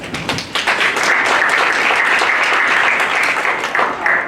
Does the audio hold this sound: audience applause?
yes